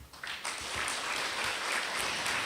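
An audience claps steadily through an indoor award ceremony, a dense, even patter of many hands that holds at moderate loudness without any talking over it.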